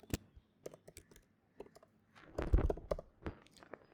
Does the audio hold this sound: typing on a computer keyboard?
yes